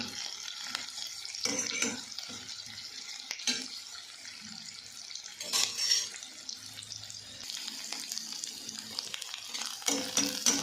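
Onions frying with cumin in a pan, giving a steady soft sizzle with occasional louder crackles and stirring scrapes, close and alone.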